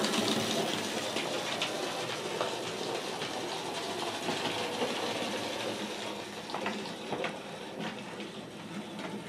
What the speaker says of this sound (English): you now look at the loco now. It's struggling a little bit.